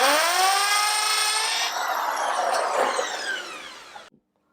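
A power drill whines loudly at a high, steady pitch, then slows and winds down before cutting off into silence after about four seconds.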